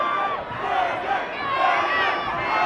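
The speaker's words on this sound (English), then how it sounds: "A lot of noise from the crowd." A crowd roars and cheers at a fight night boxing match, a dense continuous wall of shouting and whooping that swells and dips across the moment.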